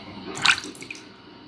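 Water splashes once, close and brief, as a face pack is rinsed off at a basin or from a bowl, with faint drips afterward and quiet room tone around it.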